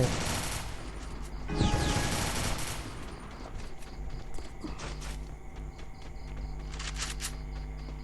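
Gunfire in the mobile battle game Free Fire during a 4v4 match, a loud opening burst of rapid shots followed by scattered quieter shots, footsteps and game effects over a continuous background hum.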